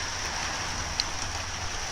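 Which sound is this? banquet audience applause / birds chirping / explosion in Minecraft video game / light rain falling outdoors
light rain falling outdoors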